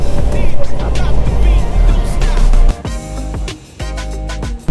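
An Isuzu 4x4 pickup creeps in first gear across a tilted off-road test course, its engine a loud, steady low rumble that drops in level partway through, with faint clunks and rattles as it moves.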